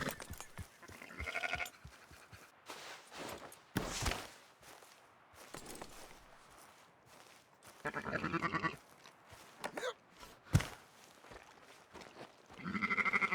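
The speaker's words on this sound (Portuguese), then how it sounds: "Eu vou tentar alertar as ovelhas para elas saírem pelo portão." Sheep on a farm in Red Dead bleat repeatedly in scattered bursts, several calls rising above soft footsteps and quiet shuffling, some close and loud, others fainter.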